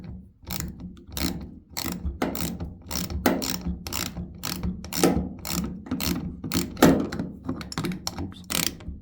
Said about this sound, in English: Get it started by hand and then this ratchet's a little stiff.